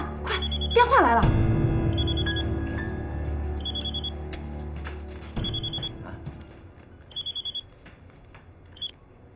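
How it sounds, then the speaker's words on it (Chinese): An indoor telephone rings in repeated electronic bursts, loud and close, each ring lasting about a second with pauses between, over low room sound; near the start a speaking voice overlaps the first rings. "电话来了。"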